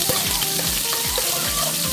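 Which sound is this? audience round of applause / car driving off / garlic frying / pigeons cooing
garlic frying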